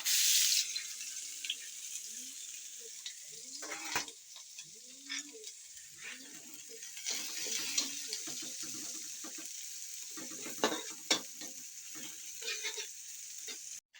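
Chopped onion and garlic sauté in a pan for a burger steak gravy, a bright steady sizzle with scattered clinks and scrapes of stirring, close up and continuous.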